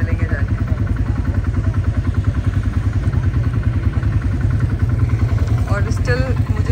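A quad bike engine in the Dubai desert chugs in a fast, even pulse close to the microphone while people talk over it.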